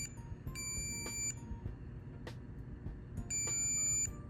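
Tamagotchi virtual pet beeping as it dies: clusters of thin electronic beeps come in short bursts, pause, then return, high and clear above a steady low room hum.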